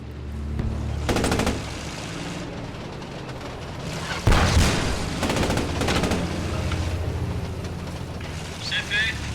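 Machine gun fire and explosions in the video game Post Scriptum: steady battlefield rumble with bursts of automatic fire and a heavy booming blast partway through, under ongoing talk.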